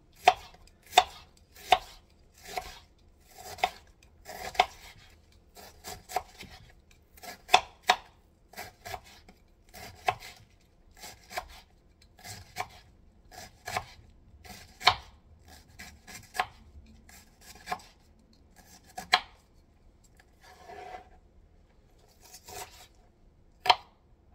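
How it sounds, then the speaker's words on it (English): Fresh cabbage sliced with a knife on a cutting board, a long series of crisp, sharp chops at an uneven rhythm, close and distinct against a quiet background, with no talking. "fresh cabbage. So let's slice these up too."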